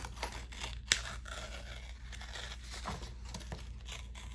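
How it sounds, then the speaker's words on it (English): Sublimation transfer paper being torn along a printed black line: soft, papery ripping and crinkling with one small sharp snap, fairly quiet and close, with no voice. "So I'm going to just tear away the black line, being careful not to tear my image."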